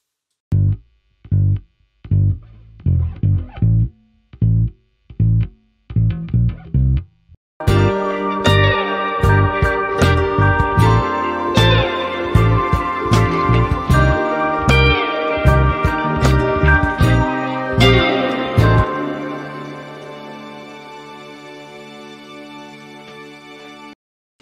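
Sample beat, opening with sparse punchy chords, then a dense loop of drums, keys and a bass line that shifts near the end; loud and continuous, ending on a sustained low tone, no talking.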